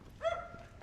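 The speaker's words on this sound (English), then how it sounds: "one specific dog barking in the wilderness." One dog barks once, a short, fairly faint woof that sounds off at a distance on an outdoor walk through Toronto's Annex neighbourhood.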